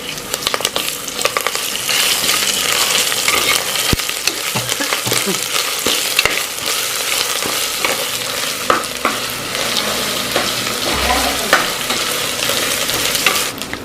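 Ginger paste fries in a hot pan with a dense, continuous sizzle, punctuated by scraping stirs and occasional clinks of a utensil, close and fairly loud throughout.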